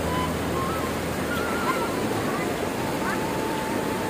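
A river flows in front of a village house, giving a constant loud rush of moving water that fills the scene evenly from start to finish, with faint background activity mixed in.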